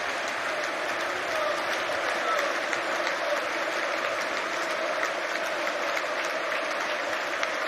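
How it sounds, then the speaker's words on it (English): A large stadium crowd at a football title celebration claps and cheers in a dense, continuous roar of applause that holds at a steady level throughout, heard from a distance. "Special cheer for Steve Holland."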